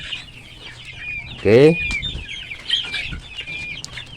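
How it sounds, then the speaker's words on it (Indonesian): Chickens in a farm pen clucking and squawking while they eat freshly mixed feed, with one loud burst of scratchy calls near the start over steady background clucks and a brief spoken word. "bagaimana kebrutalan, keganasan ayam ini saat makan"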